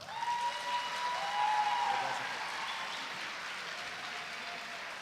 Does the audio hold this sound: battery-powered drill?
no